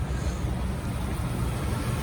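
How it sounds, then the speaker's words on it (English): A 1991 Cadillac Allante's 4.5 liter V8 idles under an open hood, giving a steady, close, low rumble with an even broadband hiss and no voices. "Let's take a good listen to the engine."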